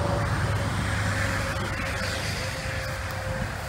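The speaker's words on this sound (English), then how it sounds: "Sorry about the traffic noise." Road traffic rumbles as a constant low drone beside woodland in the Poconos, with a passing vehicle swelling and fading under steady background noise.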